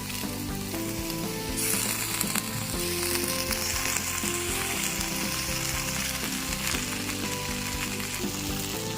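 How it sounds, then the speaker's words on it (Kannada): Steady loud sizzling fills the scene as soy sauce and red chili sauce go into frying corn in a pan, a dense continuous crackle with some stirring scrapes and clinks mixed in. "ಈಗ ಇದಕ್ಕೆ ಸೋಯಾ ಸಾಸ್ ಸೇರಿಸ್ಕೊತಾ ಇದ್ದೀನಿ"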